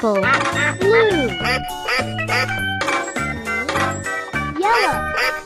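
In a children's farm-animal cartoon, a duck quacks in bright, tonal bursts over bouncy music and jingly effects, loud and continuous throughout.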